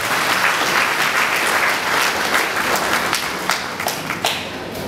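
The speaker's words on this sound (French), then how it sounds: "Aidez-nous à applaudir," A congregation applauds at a diocese of Jérémie 50th-anniversary celebration, a broad wash of many hands clapping that stays full and steady, then thins toward the end as individual claps stand out.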